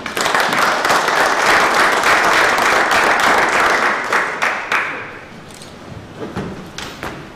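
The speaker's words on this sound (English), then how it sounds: "if you guys would give Alex a round of applause" An audience bursts into dense, loud applause for a speaker, sustained for several seconds before thinning into scattered claps and fading out.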